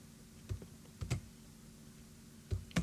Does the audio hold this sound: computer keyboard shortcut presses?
yes